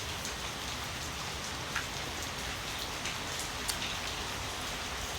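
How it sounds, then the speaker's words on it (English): Steady rainfall, a soft continuous hiss of drops with occasional slightly louder patters, fairly faint and with no voices. "It's raining here."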